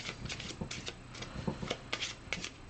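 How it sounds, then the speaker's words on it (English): Henchman card deck in the Aventuria card game being shuffled at a table: a quick run of crisp riffling bursts and soft card taps, close and fairly quiet, with no talking. "we're going to shuffle the henchman deck"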